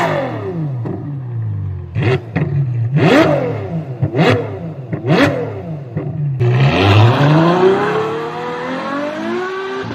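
A straight-piped Ferrari F12 Berlinetta, 730 horsepower, blips its engine in several sharp revs, then launches into a loud, sustained acceleration with rising exhaust howl, heard up close.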